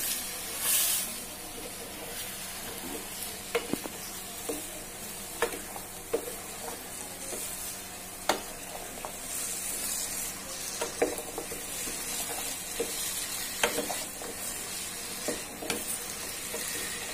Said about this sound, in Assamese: এতিয়া মই ইয়াত বইল কৰি থোৱা বুটখিনি দি দিম। ভালদৰে মই মিক্স কৰি ল'ম।